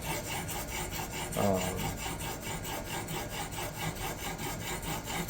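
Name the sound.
knife sharpening on Xarilk diamond stone with Hapstone R2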